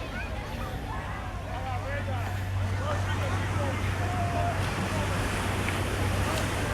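Ocean surf washes continuously at the water's edge along the Coney Island shore, a steady broad wash mixed with wind noise and faint distant crowd babble.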